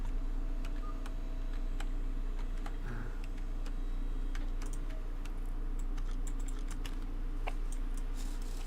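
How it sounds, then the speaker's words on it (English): Steady computer mouse clicking during a Car Mechanic Simulator 2018 session, a run of small sharp clicks at an irregular pace over a low, constant background hum, with no talking. "I swear I will stop right clicking at one point."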